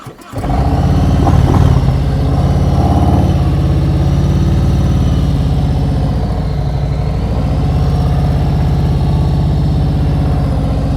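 A motorcycle engine rumbles at low speed through a slow U-turn, starting abruptly and holding a loud, steady idle-like putter close by, with slight rises and dips in pitch and no talking.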